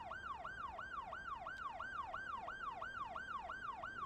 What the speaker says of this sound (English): Stuck ambulance causing chaos.